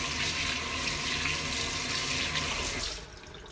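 A kitchen tap runs steadily as shrimp are washed under it, a loud broadband hiss of flowing water that cuts off near the end, leaving a quiet tail.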